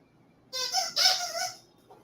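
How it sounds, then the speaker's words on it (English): A dog's squeak toy sounds in two quick bursts, a short squeak and then a longer, strained rubbery squeal, each bright, close and loud against a quiet background, with no voices. "I'm going to have to give him this squeak toy"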